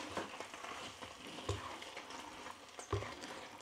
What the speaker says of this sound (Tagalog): Mix lang siya ng mix.